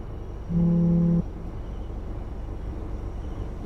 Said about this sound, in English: she turned around when I honked the horn